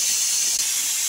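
A pressure cooker whistle releases steam in a continuous loud, steady hiss with no other sound, during the cooking of Mumbai pav bhaji.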